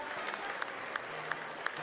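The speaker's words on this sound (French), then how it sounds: "que vous pouvez applaudir bien fort" Spectators at a Bazadaise cattle show applaud agricultural high school students, soft distant clapping from a crowd with a few sharper claps standing out at a regular pace.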